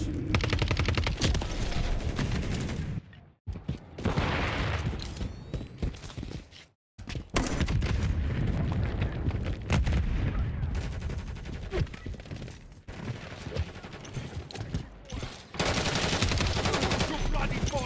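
Rapid automatic gunfire bursts in a Call of Duty Modern Warfare III multiplayer match, loud and close, with dense volleys broken by brief silences and occasional footsteps, under intermittent shouted voices.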